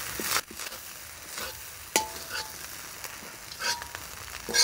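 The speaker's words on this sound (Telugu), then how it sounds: "బాగా హై ఫ్లేమ్లో కలుపుకుంటూనే ఉండాలి" Gobi fried rice stirred on high flame produces a continuous sizzle with bursts of scraping and stirring from the pan, a few sharper clanks and hisses spaced irregularly, close and moderately loud.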